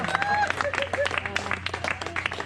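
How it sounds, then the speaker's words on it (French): Party guests clap in a short, uneven burst, close and moderately loud, with voices murmuring underneath. "Encore une fois, cher ami, applaudissez."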